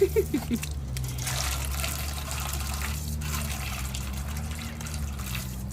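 A thin stream of water trickles and splashes steadily into a container, with a low hum beneath it and a brief voice at the start.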